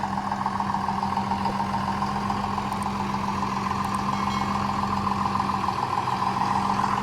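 A 140 hp John Deere tractor engine drones steadily at close range pulling a Lemken Karat 10 implement over stubble, a low constant rumble with no change in pace and no talking.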